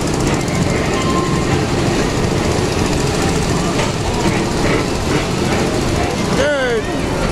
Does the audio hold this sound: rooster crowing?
no